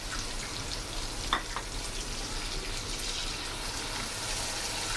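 Half a cup of yogurt goes into a frying beef kofta pulao masala on a low flame, producing a continuous bubbling sizzle with a brief stir or splash near the start, close by and without speech.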